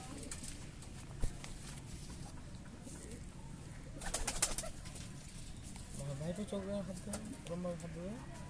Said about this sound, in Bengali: রাজু ভাইয়ের আরেক জোড়া কালশিরা দেখুন, খুব সুন্দর কালশিরা